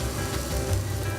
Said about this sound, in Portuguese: O bife já está cozinhando, ele não está fritando